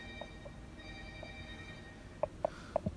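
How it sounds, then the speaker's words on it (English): A second mobile phone rings indoors at home, a few faint repeated electronic ringtone tones heard at a distance over a quiet room background. "It's the other phone."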